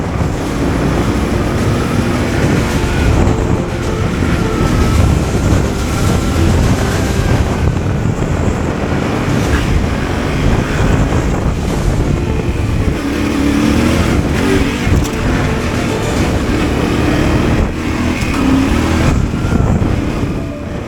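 Yamaha Tenere 700 and Suzuki DR650 adventure motorcycles riding together on Australian roads, a continuous loud engine drone with wind rush and shifting revs throughout, no talk.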